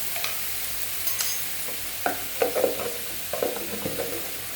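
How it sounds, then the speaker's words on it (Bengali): Spice paste with ginger, cumin and coriander powder frying in a pan for dahi kofta, a soft steady sizzle broken by a spoon scraping and stirring in several quick, close strokes. "ফোড়নটা লাল হয়ে তারপর আমি পেস্ট করা সেই মশলাটা আমি, আর আদা, জিরে আর ধনের গুঁড়ো দিয়ে দিলাম"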